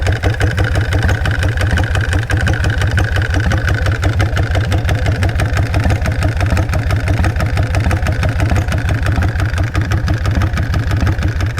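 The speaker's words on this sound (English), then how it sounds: "See if it'll idle. It's a little cold still." A cold engine idles close by, a loud, steady, rapid chugging pulse held evenly throughout, with no audible start and no talking.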